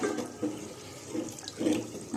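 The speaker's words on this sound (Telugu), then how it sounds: "ఎన్నైతే బియ్యం పోసుకుంటామో అన్ని వాటర్ యాడ్ చేసుకోండి" Water poured onto rice in a pot for bagara rice, a soft splashing pour with a few louder gurgling swells, close and alone.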